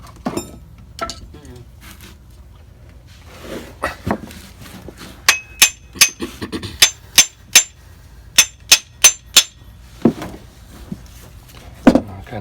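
A run of sharp metallic hammer strikes driving a stuck tag axle bushing through a plate on a Wanderlodge bus, about ten evenly spaced hard blows ringing close by, with quieter knocks and shuffling before them.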